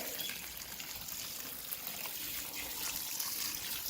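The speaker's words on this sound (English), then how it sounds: "let's get this bucket filled up. All right, water is going in." A bucket being filled for homemade comfrey tea fertilizer, water pouring and trickling in a steady, fairly quiet continuous stream with no talking.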